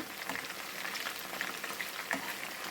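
Fried chicken pieces are lifted out of hot oil, with a dense, steady bubbling sizzle and a few small crackles, close and alone.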